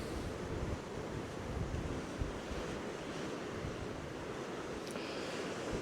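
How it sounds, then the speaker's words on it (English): Ocean waves crash against rocks on the west coast of Scotland in a continuous loud roar of surf, with heavy wind buffeting the microphone throughout. "It's just amazing watching the waves crash against the rocks down there."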